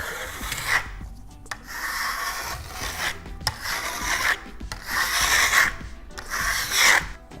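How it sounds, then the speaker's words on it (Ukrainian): A Venetian trowel presses and compacts marmorino plaster on a wall in repeated rhythmic rasping sweeps, each stroke a close scraping rub with brief pauses between, with no voices. "беремо венеціанську кельму, витираємо її, щоб вона була абсолютно чистою. І починаємо такими от рухами, надавлюючи на поверхню, ущільнювати матеріал"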